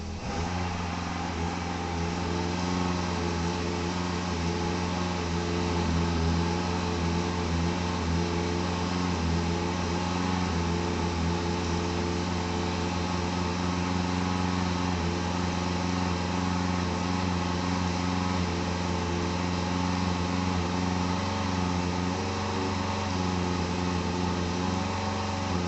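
An Evinrude E-TEC G1 outboard motor runs steadily in self-winterize mode at wide open throttle in neutral, a loud continuous engine drone with no talk.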